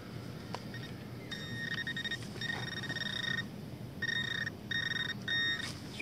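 A metal detector sounds a run of short, bright electronic tones while sweeping for a buried target thought to be a coin or silver ring, beeping in clustered bursts over soft outdoor background noise.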